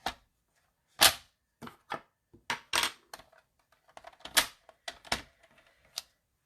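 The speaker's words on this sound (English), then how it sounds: "So let's bring the paper trimmer back in." A paper trimmer cuts through cardstock in a series of sharp, close clicks and snaps with irregular spacing and quiet gaps between them.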